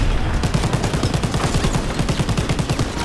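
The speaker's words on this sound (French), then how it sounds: "Mitrailleuse!" Rapid machine gun fire in a video game rattles in dense, evenly spaced bursts, loud and close, running continuously for a few seconds.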